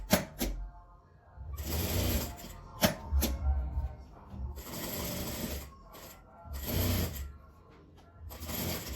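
A sewing machine stitches the open edges of a fabric gift wrap in several bursts of whirring, each a second or two long, separated by brief pauses and a few clicks, loud and close.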